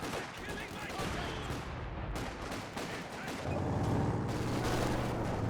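Battle sounds from the video game Company of Heroes 2 fill the scene, with repeated mortar and gunfire blasts and a steady rumble. A voice speaks over the dense combat noise.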